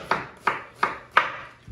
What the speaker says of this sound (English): I'm going to cut these onions